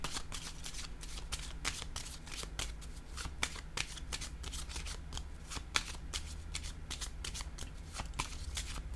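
Tarot cards being shuffled in a steady run of crisp riffling flicks and soft slaps, close and continuous, with a faint low hum underneath and no talking.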